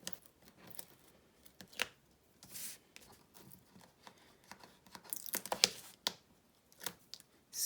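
Sticky backing strip peeled off tear tape on a handmade mini composition notebook, heard as a few brief crackling, tearing rips scattered among soft handling rustles, close and fairly quiet.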